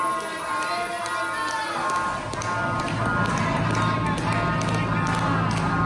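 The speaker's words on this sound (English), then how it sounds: "As the ride crew dispatches the train, they begin clapping and chanting Eejanaika over and over." Ride crew at Fuji-Q Highland's Eejanaika roller coaster clap in a steady rhythm and chant together as the train is dispatched, with crowd voices filling the open station.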